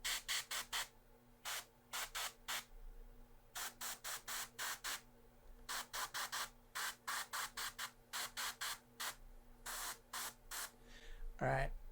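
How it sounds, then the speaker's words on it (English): An airbrush spraying paint in short bursts: repeated sharp hissing puffs of air, close by, coming in quick clusters separated by brief quiet gaps over a faint steady hum. "This airbrush is friggin' fantastic"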